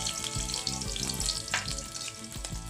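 Garlic sizzles in a little cooking oil in a pan, a steady close crackle with occasional stirring scrapes and no talking.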